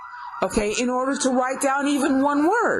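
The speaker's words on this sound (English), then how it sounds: "Sorry about the noise in the background. It's an ambulance." An ambulance siren passes in the background, its rising and falling wail running faintly beneath someone talking close to the microphone throughout.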